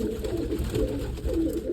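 Pigeons coo in a loft, a steady layered murmur of soft, throaty calls from several birds, close and continuous with no talking.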